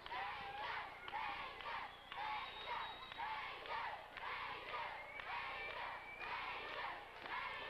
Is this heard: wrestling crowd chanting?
yes